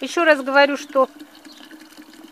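Freshly boiled water from a kettle is poured into a glass jar, a faint, steady trickle that follows a woman's brief speech.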